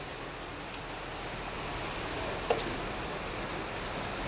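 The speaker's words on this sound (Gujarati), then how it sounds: "ફૂલ વરસાદ પડે છે." Steady rain falls outdoors, a soft, even hiss of drops that runs without a break, fairly quiet and distant, with one brief tick partway through.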